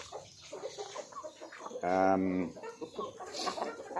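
A single harsh chicken squawk sounds on a farm, close and brief, in the middle of a man's ongoing speech.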